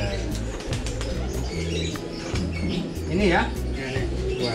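A one-legged pigeon gives a few soft coos and brief wing flaps close by, mostly beneath two men chatting in Indonesian.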